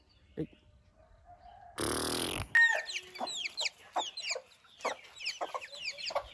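Several hens cluck in short, repeated bursts close by on a cold morning, after a brief loud rustling flutter, with scattered clucks continuing throughout.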